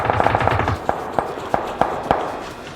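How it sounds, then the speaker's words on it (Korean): Gunfire in the PUBG (Battlegrounds) video game: a rapid burst of shots at the start, then several single shots spaced about a third of a second apart, sharp and fairly close. "또 쏜다, 또 쏜다, 또 쏜다"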